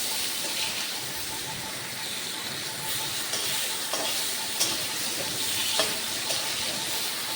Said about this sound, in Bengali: তেলের মধ্যে আদা আর টমেটোটা হালকা করে ভেজে নেবো